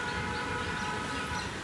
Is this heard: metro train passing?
yes